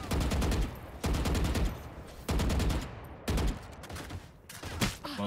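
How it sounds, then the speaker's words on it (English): Swarm grenade detonations in the tactical shooter Valorant: a burst of repeated loud blasts arriving in about five surges, each a sharp broadband crack followed by a decaying rumble, with no talk. "Swarm grenade out."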